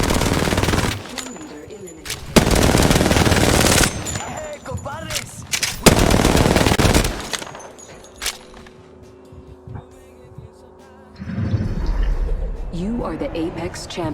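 Bursts of automatic gunfire from the video game Apex Legends come in loud clustered volleys with pauses between, and a player's voice talks over the shooting.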